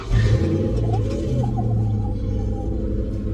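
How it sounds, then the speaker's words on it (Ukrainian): A 1996 car at a charity auction lot idles steadily after starting, with a low, even engine rumble running throughout at close range and no voices over it. "Зміг завести, і двигун працює рівно, звучить добре."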